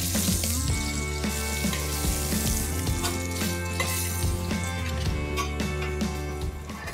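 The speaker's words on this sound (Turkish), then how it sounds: "tavuklar kızarmaya başladı" Chicken pieces sizzle and crackle steadily in a hot pot, a continuous dense frying sound with faint clinks over a humming background.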